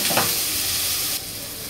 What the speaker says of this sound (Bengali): চিকন করে এই টমেটো কাটাগুলো দিয়ে দেব